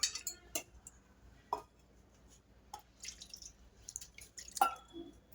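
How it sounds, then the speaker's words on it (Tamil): Water poured to rinse and clean in a kitchen, leaving scattered drips and light clinks of metal utensils or pans, sparse and quiet with gaps of near silence between the sounds. "இப்போ தண்ணி ஊற்றி க்ளீன் பண்ணிக்கலாம்."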